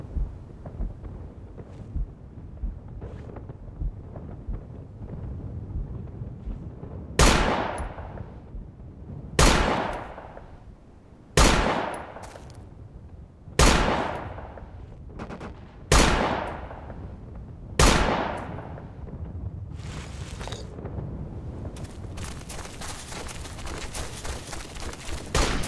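Rifle gunfire in the military shooter Operation Flashpoint: Dragon Rising during a night raid: six loud, sharp shots at steady intervals of about two seconds, each trailing a rolling echo, over a constant background hiss.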